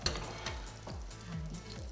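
Fish frying skin-side down in a hot pan with a steady, close sizzle throughout, broken by a few soft bumps and scrapes, with no talking.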